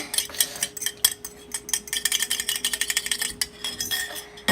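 A spoon works eggs into butter and sugar by hand in a bowl, scraping and clinking against the sides in a quick, uneven rhythm, close and clear.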